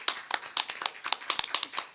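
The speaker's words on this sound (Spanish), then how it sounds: "Un aplauso." Clapping in a congressional hall after an academic event, a small group of hands beating out irregular, fairly close claps over two seconds, without voices.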